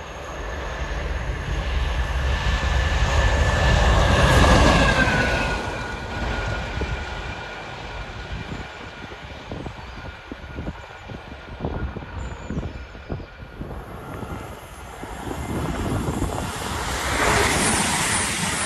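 A Class 50 locomotive-hauled train passes at South Wingfield in fading light, a loud engine roar swelling up close then receding into rumbling wheel clatter before another rise at the end.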